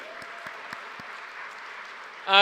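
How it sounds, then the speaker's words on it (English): A graduation ceremony crowd gives graduates of the food, fibre and animal industry department a round of applause, heard as a fairly quiet, distant wash of clapping with a few sharp thumps, before a louder voice breaks in at the very end. "Let's give our food, fibre and animal industry graduates another round of applause."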